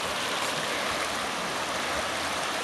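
A cold creek on the Butterfield Trail in Devils Den State Park rushes and splashes close by, a steady broadband wash of flowing water around someone wading across in flip-flops.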